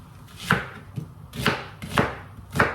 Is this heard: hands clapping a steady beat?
no